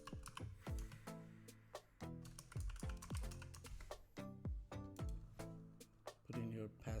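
Keys clatter on a computer keyboard as a password is entered, a close run of sharp irregular taps in quick bursts with short pauses, alongside faint talking.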